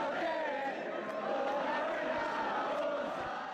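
Stadium crowd at La Bombonera in Buenos Aires roaring in a sustained ovation for the captain of Belgrano, a broad steady wash of many voices that stays loud and even throughout.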